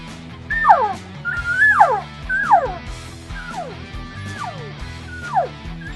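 An elk call called The Closer, with a knob that shuts off airflow, makes a series of about six whiny, descending calls for luring a bull elk. The calls come in steady succession, close and clear, with no talking.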